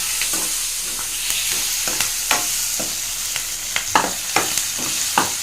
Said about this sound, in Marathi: छान परतली आहेत आपली कैरी